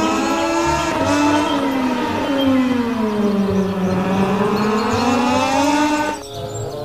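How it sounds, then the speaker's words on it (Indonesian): A racing motorcycle engine holds a loud, steady howling tone that rises and dips in pitch over several seconds, then cuts off and leaves quieter background noise. "Widih, ada motor balap."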